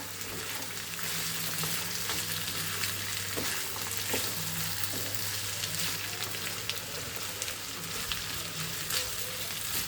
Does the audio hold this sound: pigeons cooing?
no